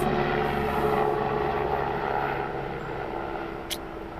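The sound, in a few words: low-flying helicopter passing over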